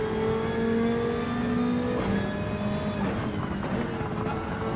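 A Jaguar race car overtaking in Gran Turismo 7, its engine note rising and then shifting as it closes in alongside a steady engine drone, with a clear pitch change as it draws past.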